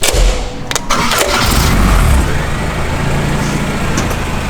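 The engine of a K-swapped Mazda Miata cranks and starts, then settles into a loud, steady idle close by, with a few sharp clatters early on.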